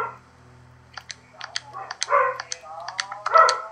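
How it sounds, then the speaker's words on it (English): A dog in a Minecraft island survival game barks several times in short, sharp bursts, fairly close, mixed with people talking over it. "Dog, shut up!"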